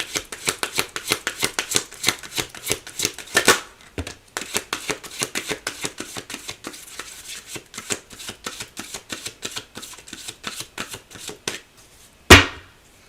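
Oracle cards are shuffled in quick, rhythmic riffling bursts, a brief pause breaking the run, then a sharp tap near the end, all close and clear with no talking.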